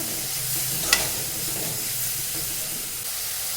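Carrot halwa sweetened with jaggery simmers in a pan while being stirred, giving a steady low bubbling sizzle with one brief scrape of the spoon, close and continuous with no talking.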